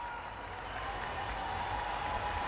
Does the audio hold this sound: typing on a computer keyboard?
no